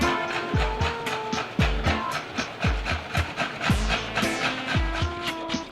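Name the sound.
hand sawing a wooden board to make eyeglass frames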